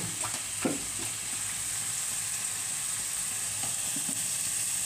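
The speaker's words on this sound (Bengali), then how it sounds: "আমি মাংস গুলো দিয়ে দিচ্ছি" Hyderabadi biryani ingredients with onions fry and sizzle steadily in a pan, a continuous hiss with occasional scraping clicks of stirring close by, no voices.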